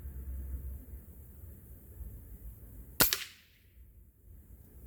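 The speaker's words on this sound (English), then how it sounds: "there's 5 rounds out of the Crosman Shockwave with open sights" A single sharp crack from a Crosman Shockwave air rifle fired with open sights, sudden and loud against a steady outdoor hiss, then fading quickly.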